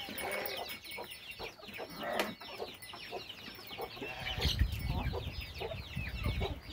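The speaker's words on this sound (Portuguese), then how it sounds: "E tem bastante pintinho solto ali também." Hens cluck busily nearby with high peeping from chicks mixed in, a dense, continuous farmyard chatter.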